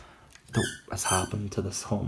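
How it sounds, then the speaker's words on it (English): A pet dog squeaks a squeaky toy at home, with bright, repeated high squeals breaking through close, continuous talk from a person speaking over it. "I apologise if you guys can hear squeaky toys in the background."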